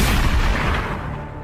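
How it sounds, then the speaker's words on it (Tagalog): Shotgun blast in a true-crime retelling, a loud broadband boom with a heavy low end that decays over about a second and a half, with no voices. "isang putok ng shotgun muli ang narinig sa paligid"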